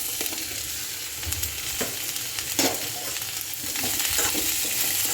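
Chopped onion and garlic fry in hot oil in a pan. A steady broadband sizzle runs throughout, with occasional scraping stirs and a few louder crackles, and no one speaks.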